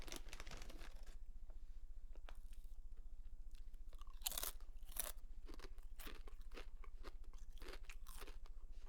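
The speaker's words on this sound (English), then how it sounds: "Let's see if you guys can hear me munching on these chips real quick." Close-up crunching of honey barbecue potato chips cooked in avocado oil, a run of sharp, crisp bites and chews spaced irregularly over a low steady hum, with no talking.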